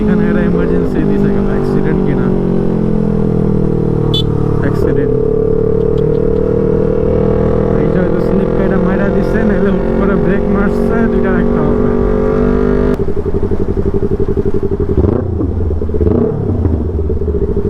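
A motorcycle being ridden through traffic, its engine droning loud and close with rising and falling tones as it accelerates, a brief shift or throttle change midway, and voices over the engine.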